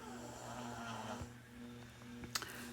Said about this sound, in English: I love when I hear my baby snoring